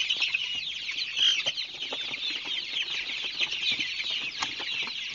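One-month-old KUB chicks crowd a box, their high peeping and soft clucking a dense continuous chorus close up, with light scratching and shuffling underneath.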